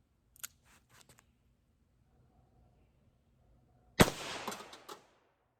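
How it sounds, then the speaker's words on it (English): A .38 Special Smith & Wesson Model 36 revolver fires one loud, sharp shot at a car door, with a short ringing decay after it. A few quiet clicks and a low hum come before the shot. "38 Special in a Smith & Wesson Model 36."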